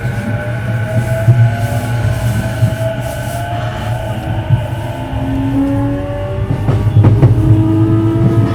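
An E233-0 series JR Ome Line train with a Mitsubishi IGBT inverter runs between stations, heard from on board as a loud, continuous rumble of wheels on rails, with the inverter's tonal whine sliding in pitch as the train accelerates.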